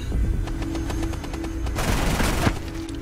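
Rapid automatic gunfire in the video game Rainbow Six Siege, a steady loud stream of shots lasting the whole stretch, swelling into a denser burst near the end with no talking.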